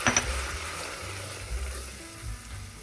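Flour cooks in melted butter for a roux in a pot, giving a soft, steady sizzle with faint stirring scrapes throughout and no talking.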